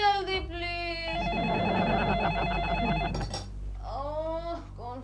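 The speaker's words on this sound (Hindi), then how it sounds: "कौन फोन करता है सुबह सुबह?" A telephone rings in a home in the morning: a clear electronic trill of repeated bursts, close and fairly loud, with a voice speaking briefly before and after the rings.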